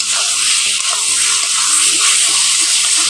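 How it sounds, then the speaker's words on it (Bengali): Potatoes and spice masala sizzling steadily in a hot pan while being cooked down for mutton kosha, a close, continuous hiss with faint stirring scrapes and no voices. "এখানে আমি আলুর সাথে মশলাটাকে কষিয়ে নিয়েছি"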